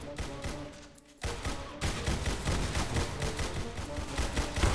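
Rapid bursts of gunfire from a Roblox game crackle loudly and densely after a brief lull, continuing without letup.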